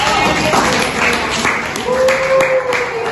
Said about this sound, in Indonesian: Keren, tepuk tangan kalau satu.